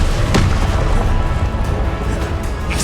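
A Confringo blast spell cast in Hogwarts Legacy, a loud booming burst with a sharp crack at the start, then a rumbling tail that fills the rest of the moment.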